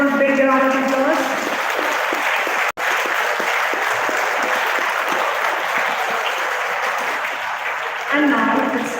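Sustained applause from an audience at an inter-school debate competition, dense steady clapping filling the room for most of the span, with brief speech at the start and end.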